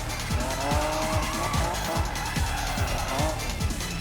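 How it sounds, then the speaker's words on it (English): A car on drift tires spins its wheels in Need for Speed 2015, with a loud engine revving hard through repeated surges and tire squeal running steadily underneath. "a lot more wheel spin happens with drift tires"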